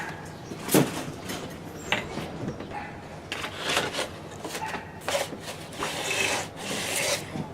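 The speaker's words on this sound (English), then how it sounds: "now we're going to switch up to 600 grit. 600 grit ought to give us a nice polish" A forged steel slitting chisel being sanded by hand with 600-grit paper: repeated close rasping strokes in uneven bursts, with one sharp knock early on and no talking.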